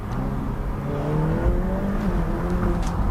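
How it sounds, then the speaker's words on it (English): A Ferrari F8 Tributo engine drones and revs steadily with a faint whirring turbo spool, heard through a quiet exhaust, continuous and fairly close, no voices. "having a quiet exhaust can make you hear the turbo spools more"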